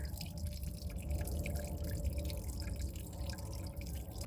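Water trickles steadily from a pipe jutting out of concrete in the woods at the source of the River Beck, a soft continuous flow with faint dripping, heard close and alone.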